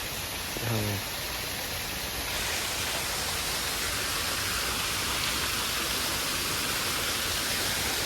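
Steady, broadband rush of flowing water fills the clip continuously, with a brief faint tone near the start.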